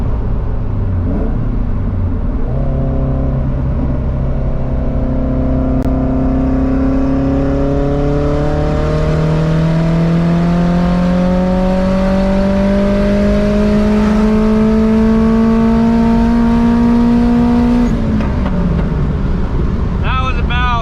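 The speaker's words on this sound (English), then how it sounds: "That was a 4th gear hit on the freeway." Tuned third-generation car with an eBay GT35 turbo pulls hard in 4th gear on the freeway, loud engine note climbing steadily for about fifteen seconds before the throttle lifts, with wind and road rumble underneath.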